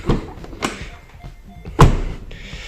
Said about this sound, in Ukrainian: чути, як спрацьовує сервопривід і двері відкриваються